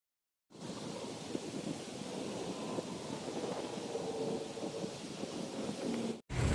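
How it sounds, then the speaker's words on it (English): Strong wind gusts across an outdoor garden in a steady, loud, broadband roar that rumbles low and keeps going without a break, with no voices and one short dropout near the end. "it's a windy day"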